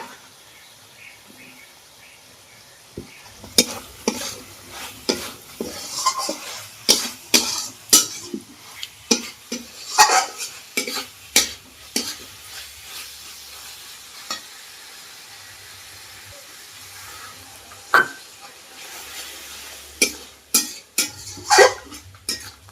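Okra cooks in a pan with spices and a splash of water for a dahi bhindi, a soft continuous sizzle broken by frequent loud scrapes and clanks of a spoon stirring against the metal pan.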